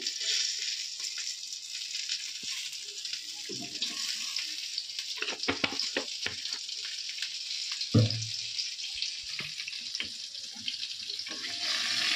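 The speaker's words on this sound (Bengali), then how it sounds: "আর এখন আমি বেগুনটা ভাজা বসিয়ে দিয়েছি এই তেলে" Eggplant fries in hot oil with a faint, even hiss that sounds almost like running water, along with scattered soft clatters and a clunk near the middle, heard without speech.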